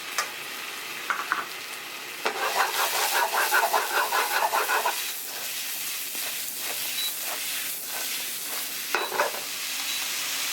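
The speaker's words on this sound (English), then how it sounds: "I'm going to just saute the garlic, then lower the heat so you don't burn it. Then I'm going to add about a cup and a half of sliced mushrooms." Garlic and sliced mushrooms saute in a pan, a continuous close sizzle with bursts of louder crackling and occasional stirring scrapes.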